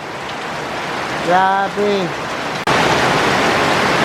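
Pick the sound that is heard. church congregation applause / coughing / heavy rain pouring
heavy rain pouring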